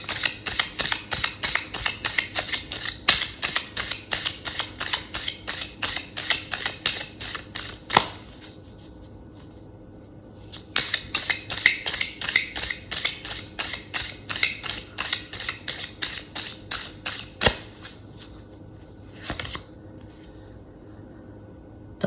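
A Mayan tarot card deck is shuffled by hand close up, in a fast regular run of crisp riffling flutters, a quieter gap, another run of flicks, then a few final taps.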